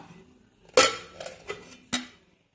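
Several sharp metallic clanks and clatters of a pressure cooker lid being opened after the whistle, four distinct hits spaced over about a second, close and fairly loud, no talking.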